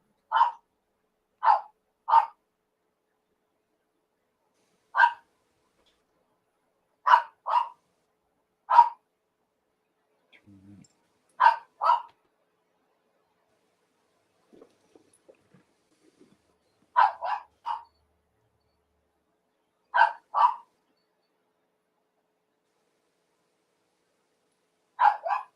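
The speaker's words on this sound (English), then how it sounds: "that dog barking coming through." A dog barks in short bursts, single and double yaps spaced irregularly across the clip, clear and fairly close against a quiet background.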